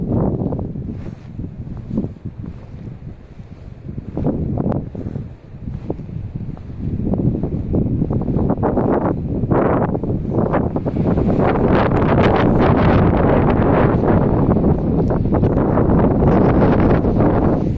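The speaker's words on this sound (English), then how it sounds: "Oh, definitely windy." Strong wind buffeting the microphone, a loud continuous roar with gusts that swell and build, growing steadier and more intense toward the end.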